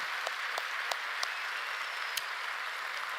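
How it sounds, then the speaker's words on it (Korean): Congregation applause for the young people at a Friday night church worship service, a broad steady roar of clapping from a large hall with a few sharper claps standing out. "오늘 또 청년들을 위해서 박수 한번 치겠습니다"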